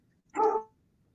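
Pet dogs at home give one short, sharp bark up close, against a quiet indoor background.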